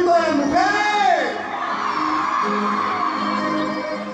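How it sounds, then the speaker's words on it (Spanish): A concert crowd of women scream and whoop loudly together, a dense sustained wall of high shrieks that swells at first and then holds steady, with some shouting mixed in. "¡Que suene el grito de las mujeres!"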